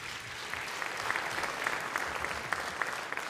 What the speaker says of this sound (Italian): fategli un applauso se lo merita